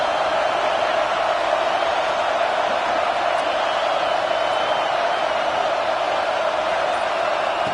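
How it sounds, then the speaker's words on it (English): Stadium crowd at a college football game, a steady loud roar of many voices swelling as fans try to help the defense get a stop, continuous and broad throughout. "this crowd coming to life here, trying to help the defense get a stop with the offense pinned back"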